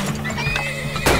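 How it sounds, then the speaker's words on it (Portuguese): A horse in the video game Turmoil gives a short, loud whinny with clip-clop hoofbeats around it, lasting just over a second. "Cavalo."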